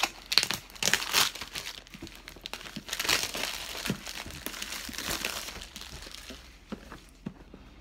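Plastic wrap crinkles and tears as a Naruto Shippuden board game box is unwrapped, a close, busy stretch of crackling and rustling with short bursts, fading toward the end.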